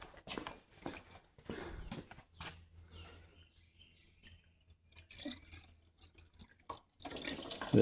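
Old coolant from a Versys-X 300 motorcycle trickles and splashes into a pan, with uneven drips and pouring bursts that come and go, fairly faint and close, with occasional handling noises and no talk.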